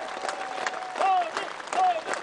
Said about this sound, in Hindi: शांति के लिए ताली बजाइए